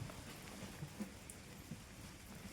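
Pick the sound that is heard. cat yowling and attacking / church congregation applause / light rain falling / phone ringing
light rain falling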